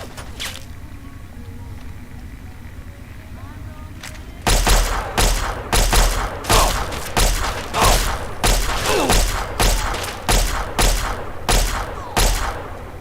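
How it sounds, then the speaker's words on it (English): Turret in Fallout 3 firing laser bullets, a regular series of about a dozen loud sharp shots in steady rhythm after a few quiet seconds, with a short isolated shot earlier. "That's a turret."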